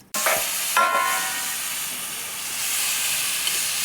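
Marinated morala fish hits hot oil tempered with nigella seeds, setting off a sudden loud hissing sizzle that settles into a steady close fry.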